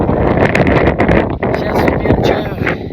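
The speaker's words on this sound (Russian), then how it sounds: "Ветер такой сегодня, стихии вот эти все," Strong wind gusts over an open mountain trail, buffeting the microphone in loud, rough bursts that rise and fall without pause, with a voice speaking through the roar.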